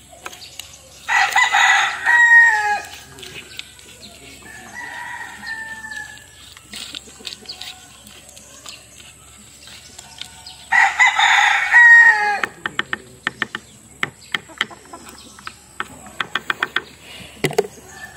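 A backyard rooster crows loudly twice, several seconds apart, with breeding hens clucking softly in between and a scatter of sharp clicks toward the end.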